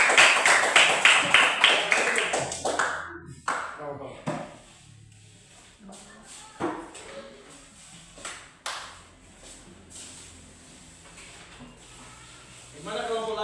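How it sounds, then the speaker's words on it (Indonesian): Group applause in a classroom for the first group, a burst of quick overlapping claps at the start that fades out, followed by a person talking with a few scattered taps and knocks. "Tepuk tangan untuk kelompok 1"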